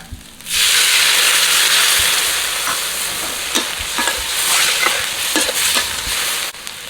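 Water poured into a hot wok of stir-fried fish with cumin and pounded spices bursts into a loud, steady sizzle and hiss that lasts several seconds, with faint stirring clatter and no talk.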